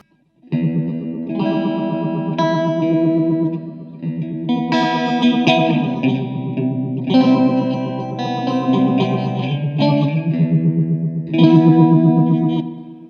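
An electric guitar plays chords through an MXR Phase 100 clone phaser pedal with its speed turned right up. The fast, swirling sweep is loud and continuous, with rhythmic strums running steadily throughout and no voice.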